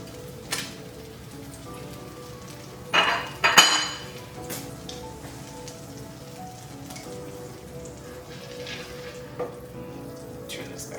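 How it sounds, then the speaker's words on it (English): Two and a half sticks of butter melt in a pot over moderate heat for pork green chili, giving a soft, steady sizzle and hiss. A couple of brief metallic utensil clatters sound near the middle. "we don't want to brown the butter, we just want to melt it"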